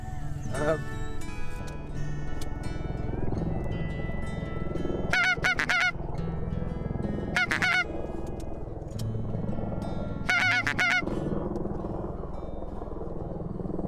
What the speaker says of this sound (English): Two groups of geese there